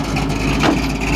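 A 1935 Chevy pickup truck with a straight-piped exhaust fitted with turbo tubes rumbles at a steady idle, with a deep, continuous low drone and a slight swell in the middle.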